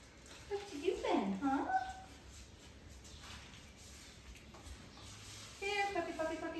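A young puppy from a litter gives high, wavering whimpers and yips in two short bursts, close and fairly soft, separated by a quiet pause.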